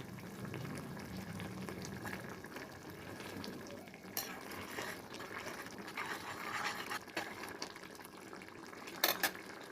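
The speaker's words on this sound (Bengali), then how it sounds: "আমি একটু নাড়াচাড়া করে দেবো" A pot of whole-prawn malai curry with coconut, yogurt and milk simmering while being stirred, giving soft continuous bubbling with light spoon scrapes and a couple of sharper clinks near the end, fairly quiet.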